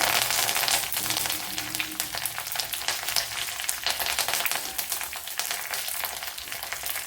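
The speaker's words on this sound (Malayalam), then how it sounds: "ഇനി ഇതിലേക്ക് കറി ലീവ്സ് ഇട്ട് കൊടുക്കാം" Curry leaves hiss and crackle in hot oil with chilli flakes while a spice powder is being made, a steady bright sizzle lasting several seconds with no voices.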